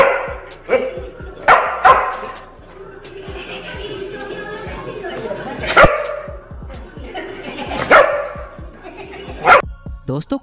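A pet dog frightened by a small cat gives several sharp barks and yips in separated bursts, with whimpering and chattering between them, close and fairly loud.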